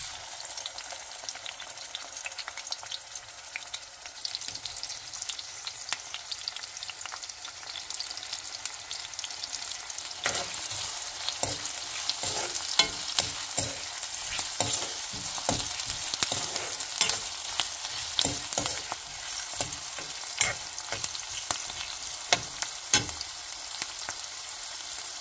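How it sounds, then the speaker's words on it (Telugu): Onions and green chillies fry in hot oil for a cherry tomato curry, a steady sizzle that grows busier midway with sharp crackles and stirring clicks, close and continuous with no talk. "ఇందులో ఉల్లిగడ్డ, పచ్చిమిరపకాయలు ఫస్ట్ ఆయిల్ వేసుకోవాలి"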